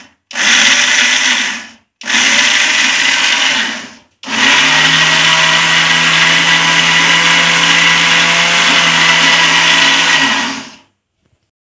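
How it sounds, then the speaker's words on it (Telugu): A kitchen mixer grinder churns beetroot with water for a drink, whirring loudly up close in two short pulses followed by one long continuous grind before stopping. "మళ్ళీ ఒకసారి గ్రైండ్ చేసుకుందాం."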